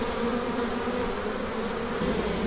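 A dense swarm of honey bees buzzes continuously up close, a steady droning hum with no other sounds.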